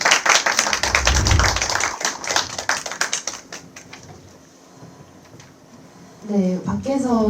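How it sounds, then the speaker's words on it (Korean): Audience applause welcoming a film director at a screening talk, a dense burst of clapping from a crowd that fades over several seconds before a voice speaks. "자리로 박수로 한번 모셔보겠습니다"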